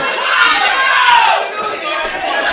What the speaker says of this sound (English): The crowd's still fired up with the Big O.